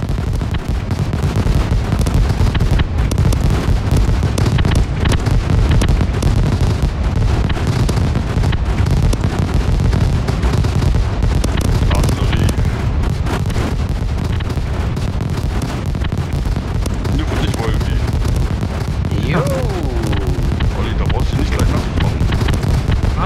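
Rocket launcher explosions in the survival game SCUM pile up into a dense, continuous roar of loud booming blasts and rumble with no clear gaps, a voice cutting in at times.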